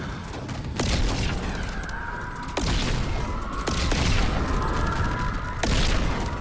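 Gunfire from a Call of Duty zombies match, aimed at the Entity boss: sustained bursts of shots at steady volume, punctuated by several sharp louder blasts, with no talking.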